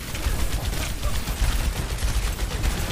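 Dense, loud video game gunfire: rapid overlapping shots and bursts crackling continuously for a few seconds, close and busy, with no clear pauses.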